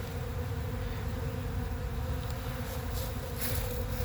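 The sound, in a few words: honeybees buzzing at hive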